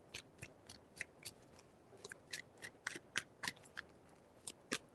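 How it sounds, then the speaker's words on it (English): Tarot cards being shuffled by hand, heard as quiet, crisp riffling and snapping bursts that repeat in a loose rhythm, close to the mic, with no talking. "Three shuffles."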